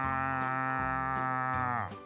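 A human voice imitates a cow mooing in a children's story, one long, low, sustained moo that holds steady before sliding down and fading at the end.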